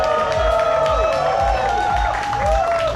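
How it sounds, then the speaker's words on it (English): A large crowd at the Tour de France Singapore Criterium cycling event cheers and claps continuously, a dense wash of applause with shouts mixed in, loud and sustained throughout. "Everyone a big round of applause for the big stars here in Singapore"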